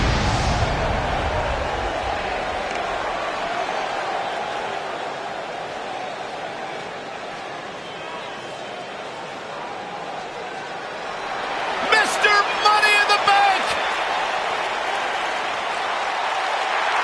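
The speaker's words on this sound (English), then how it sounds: "And Michael, it sounds to me like this crowd already picked the one who they want to win this match." A wrestling crowd in a PS4 wrestling game roars and applauds continuously under commentary, with a sharper burst of cheering near the end.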